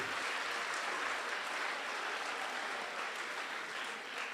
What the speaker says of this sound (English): the loudest clap for Dr. Anwar and the team